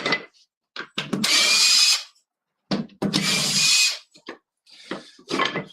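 A power drill backs drywall screws out of a wooden clamp in a workshop, three or four bursts of whirring, each a second or so long with short pauses between, loud and close with creaks of wood.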